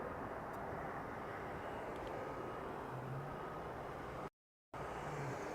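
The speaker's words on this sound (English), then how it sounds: "landing just now is going to be Southwest flight SWA 488" A Southwest airliner lands at Las Vegas Harry Reid International Airport, heard as a steady, broad jet roar that holds level for the whole stretch, with a brief dropout near the end.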